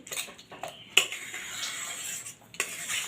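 A spoon stirs ground spices into a sweet-sour mango mixture for mango naru, giving close, sharp clinks and scrapes against the bowl with a soft rustling between strokes.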